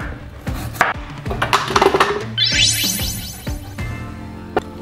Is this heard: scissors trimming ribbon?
no